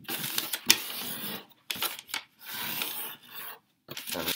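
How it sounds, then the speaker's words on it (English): A sheet of paper folded diagonally for an origami crane, with close crisp rustles and scraping creases in several short bursts separated by brief silences. "So we're going to fold it in half diagonally."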